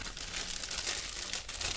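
A plastic bag crinkles loudly and continuously up close for a brief moment, being squeezed and dabbed during acrylic pour painting with no voices over it.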